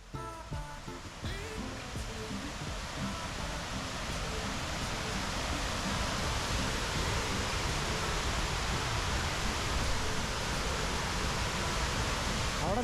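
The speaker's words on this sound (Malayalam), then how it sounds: "ചെവിയിലേക്ക് ഇരച്ചു കയറുന്ന വെള്ളച്ചാട്ടത്തിന്റെ ശബ്ദവും" Punnayar waterfall roars as a dense, steady rush of water that swells slightly as it draws closer, with no talk over it.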